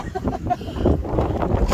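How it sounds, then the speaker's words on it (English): Strong wind gusts buffet the microphone on Lorne pier during afternoon fishing with friends, a constant low roar rising and falling close up, loud throughout. "Oh, it's windy. It's crazy."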